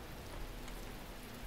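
Rainfall in The Talos Principle video game, a constant hiss of drops on hard ground, fairly quiet and unbroken throughout.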